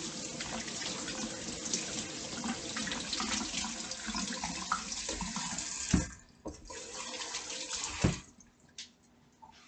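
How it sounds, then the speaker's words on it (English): Hands are washed with soap under a running tap, a continuous splashing stream that breaks off abruptly twice near the end and then leaves scattered drips and quiet. "And now I'm gonna wash my hands with soap."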